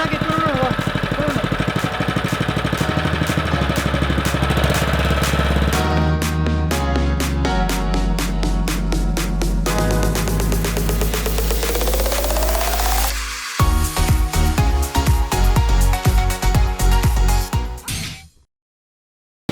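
An electric water pump motor drives water through PVC pipes with a loud, continuous droning hum that shifts in tone partway through, turns rougher and pulsing, then cuts off abruptly near the end.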